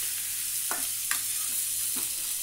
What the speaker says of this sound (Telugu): ఈ సొరకాయ తురుము అనేది ఈ నేతిలో వేసుకొని పచ్చి వాసన పోయే వరకు ఫ్రై